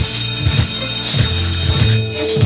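A loud, steady electronic alarm bell rings continuously, its repeating pulses filling the space with no voices over it.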